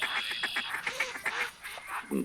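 Ducks on a bayou call out in repeated quacks and nasal honks, several birds overlapping close by in a busy, irregular chatter against quiet open air.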